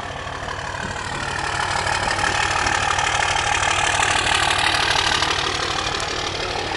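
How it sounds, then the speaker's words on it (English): A 2005 Dodge Ram 3500 with the 5.9 engine and six-speed manual idles nearby, its exhaust giving a steady, dense, rough rumble that swells slightly after the first second and holds constant, with no talking. "You can hear that exhaust."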